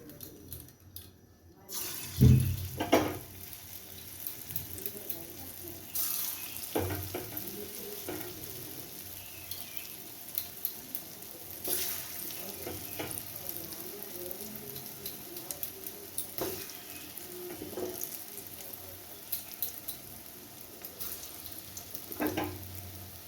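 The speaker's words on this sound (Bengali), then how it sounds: "আমি গ্যাসে কড়াই বসিয়ে দিয়েছি আর কড়াইয়ে তেলও দিয়ে দিয়েছি। আমার তেলটা অনেকটাই তেলে গেছে। এবার আমি এর মধ্যে কোপ্তাগুলো দিয়ে দিচ্ছি।" Raw banana (kanchkola) koftas frying in hot oil in a wok on a gas stove, a steady close sizzle that swells after they drop in, with occasional clinks and stirring sounds throughout.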